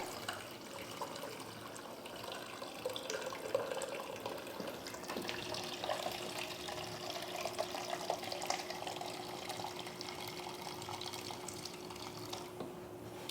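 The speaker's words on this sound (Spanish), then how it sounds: "Extraemos 1 litro de mosto." Wort runs from the bottom of a mash pot during home beer brewing, a steady low stream of liquid with faint drips, continuous and quiet with no speech.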